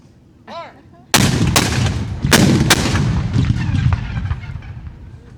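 World War II tanks fire their guns at a veterans' battle event, several loud, close booms in quick succession with rumbling, reverberating tails and a brief whistling tone just before the first shot.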